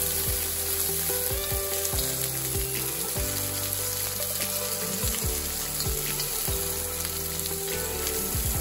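Clams toss in a hot wok over a constant loud sizzle, with rhythmic spatula scrapes and clatter from the shells recurring throughout, close and without speech.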